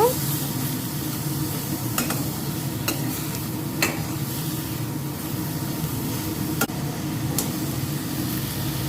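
Cut potatoes sizzle and are stirred with chili powder and cumin in a hot pan, a steady frying hiss with occasional scrapes and clicks from the utensil, fairly close and even throughout.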